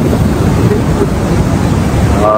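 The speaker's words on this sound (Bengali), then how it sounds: "জোয়ারের সময় চলছে, অনেক বেশি স্রোত, পানি প্রায় উপর পর্যন্ত উঠে আসছে" Constant heavy roar of high-tide surf washing in at Kolatoli Beach, Cox's Bazar, loud and close, mixed with gusting wind buffeting the microphone.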